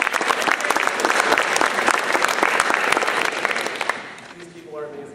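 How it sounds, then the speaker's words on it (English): An audience at a stage show breaks into dense, steady applause, many hands clapping at once, which tapers off and fades out over the last second. "One more round of applause for Tricia Lappington."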